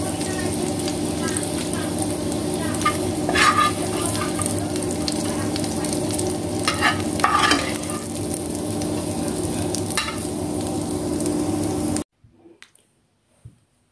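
Chicken gizzards and hearts sauté in a hot pan with a steady loud sizzle and crackle, broken by a few stirring scrapes and pops, before the sizzling cuts off abruptly and only faint scattered clinks remain.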